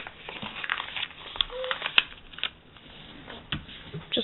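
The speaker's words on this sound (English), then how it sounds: "And then this part, fold it" Paper being folded and creased to form a paper balloon, with close, soft crinkling and sharp little snaps of the sheet, intermittent and quiet.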